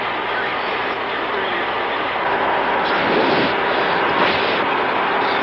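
Pan Am 747 airliner in flight toward Chicago, a loud continuous cabin roar of engines and rushing air that holds steady throughout.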